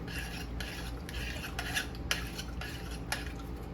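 A spoon stirs coconut milk and water in a cooking pot, making steady scraping swishes with regular light clinks against the metal. The sound is close and continuous, and no one speaks.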